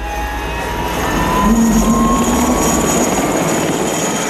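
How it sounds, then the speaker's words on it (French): Military helicopters flying low, about ten metres above the ground, a loud steady rotor and engine roar with a rising whine in the middle, close and continuous without voices. "Les hélicoptères volent à 10 mètres du sol et jouent au chat et à la souris avec l'ennemi"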